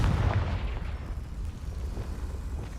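Explosive Confringo spell from the video game Hogwarts Legacy, a deep booming blast that rumbles loudly at the start and trails off into a sustained low roar.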